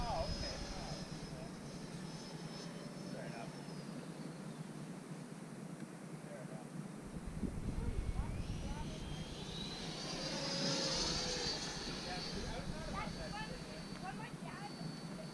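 A Freewing L-39 Albatros 80mm electric ducted-fan RC jet whooshes past overhead, its whine swelling and fading at a distance while people talk over it outdoors.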